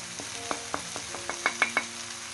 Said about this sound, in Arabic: الخضيره ديالنا والكفته بداو كيطيبوا